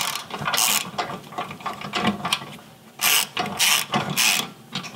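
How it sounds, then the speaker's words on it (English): A ratchet tightens a bolt on a JCR Shield tire carrier for a Jeep TJ, giving short bursts of rapid, close mechanical clicking separated by brief pauses. "now let's tighten this top bolt down first to suck it up into place"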